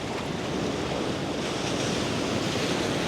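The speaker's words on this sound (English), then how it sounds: "Hopefully get some nice waves." Ocean waves wash over rocks on a sunny coast with surfers nearby, a steady close roar of surf and spray mixed with wind noise on the microphone, with no voices.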